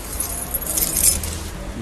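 Keys jangle in a prop bunch held up during a Paris walking show, a bright continuous metallic rattle lasting the whole moment, fairly close, with faint street ambience beneath and no clear talk.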